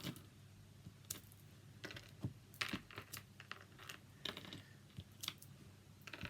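An inked storefront stamp is dabbed repeatedly onto scrap paper, making soft, irregular tapping clicks close by in a quiet room.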